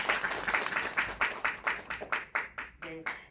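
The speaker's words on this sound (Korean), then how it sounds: "박수 부탁드립니다." An audience at a cinema film talk claps in a steady round of applause that starts strong and gradually thins, with a few scattered claps and some talking near the end.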